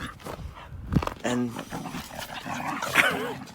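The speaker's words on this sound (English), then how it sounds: "We have a rescue dog, and this is how she plays." Rescue dog growling and barking in rough play, short gruff barks and rumbling growls mixed with whimpers, close by, with a person speaking over it.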